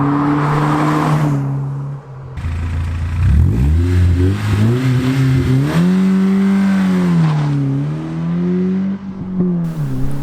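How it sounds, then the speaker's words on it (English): BMW Z3 engine revving through a homemade DIY resonator exhaust, loud and close, with rising and falling engine tones as the revs climb, hold and drop over several seconds. "the sound of this Z3 has been seriously improved for less than half the cost of an aftermarket system"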